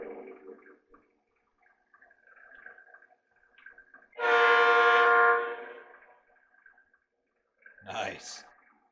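A Lionel Doodlebug model train powers up and sounds its horn: a loud sustained horn blast lasting about a second, then a short second toot, with faint mechanical hum between.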